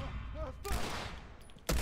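Gunshots in a video game: a loud shot lands around the middle and another at the very end, over a noisy game background, in a very short moment.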